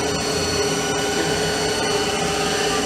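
A 2010 Haas TM1P CNC mill running its spindle at 2,000 RPM on three-phase power, a loud, constant motor whine with steady tonal hum and no cutting or talking.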